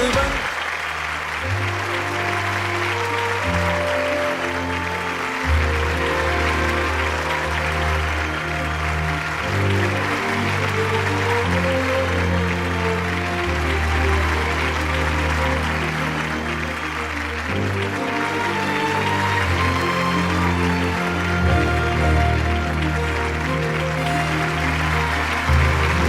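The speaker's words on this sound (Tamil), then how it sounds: "And the கைத்தட்டல் அதற்கு ஒரு மிகப்பெரிய அங்கீகாரம்." An awards ceremony audience claps in sustained applause under music, a thick wash of clapping that continues throughout.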